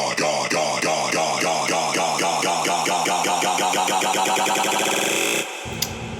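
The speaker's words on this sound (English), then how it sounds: "that's how you get this cool loop rolling up effect." A dense electronic dance loop rolls upward as its repeating segment shortens, pulses speeding into a rising stutter in a remix, loud and steady before cutting to a brief quieter tail.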